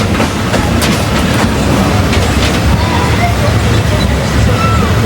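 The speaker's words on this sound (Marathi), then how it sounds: "आता इकडून ट्रेन पकडली" A passenger train runs on rails near Mumbai, its loud, continuous rumble broken by rhythmic clickety-clack, heard from inside among a murmur of crowd chatter.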